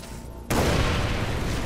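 An explosion in the video game Far Cry 3 Blood Dragon hits suddenly after a short quiet hum, then a loud, dense roar continues to the end.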